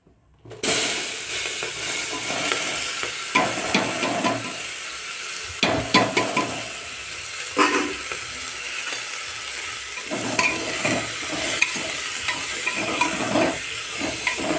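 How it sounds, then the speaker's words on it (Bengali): Vegetables frying in a pressure cooker for dalia khichdi, an even sizzle punctuated by repeated spatula scrapes and knocks against the cooker's metal. "দেখো কুকারেতেই ভেজে নিচ্ছি"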